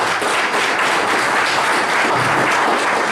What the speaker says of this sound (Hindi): तो एक बार जोरदार तालियां अपने लिए बजा दो